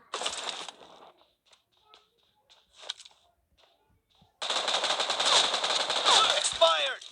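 Gunfire from the PUBG Mobile shooter game: a few scattered shots early on, then a sustained loud burst of rapid automatic fire through the final seconds.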